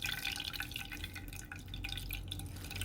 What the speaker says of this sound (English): All of the juice is coming out from the nut bag.